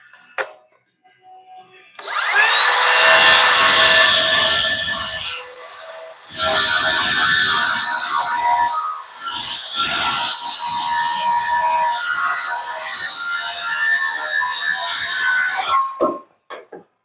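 A hand saw cuts through wood in a long run of loud, close rasping strokes. The sawing pauses briefly partway through, then continues steadily until it stops near the end.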